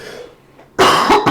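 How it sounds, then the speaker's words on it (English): A single sharp cough bursts out close to the mic after a brief quiet lead-in, followed by a quick second throaty cough, heard alone without talk. "Coughing all over the place."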